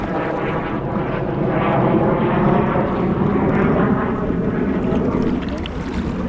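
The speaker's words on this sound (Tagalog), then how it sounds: "Sunod-sunod na jet fighter na daan." Jet fighters pass overhead one after another beside a riverbank, a loud, sustained broadband roar that swells and lingers across the whole stretch with wind buffeting the microphone.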